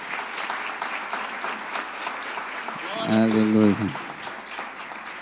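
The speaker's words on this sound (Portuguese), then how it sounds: "Vamos aplaudir Jesus." A church congregation claps steadily through a celebration service, dense applause filling the room while a voice rises briefly over it.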